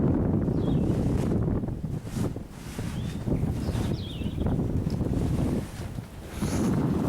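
Strong, cold wind on a mountaintop on the Appalachian Trail buffets the microphone in continuous gusts, a loud roaring rush with brief lulls and no voices.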